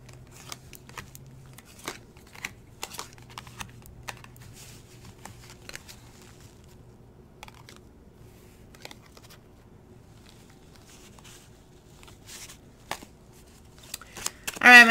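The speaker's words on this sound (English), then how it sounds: "I was shuffling and these cards popped out" Tarot cards are shuffled in soft, sporadic riffles and taps across a quiet room, with faint scattered handling sounds and a low hum underneath.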